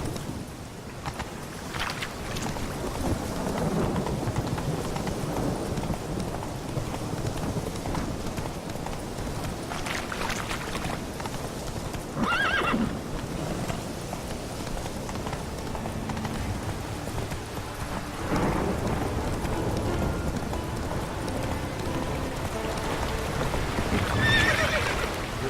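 The horse Roach from The Witcher 3: Wild Hunt galloping with steady rhythmic hoofbeats, plus occasional whinnies and snorts, continuous and moderately loud against a busy outdoor game soundscape, no clear talking.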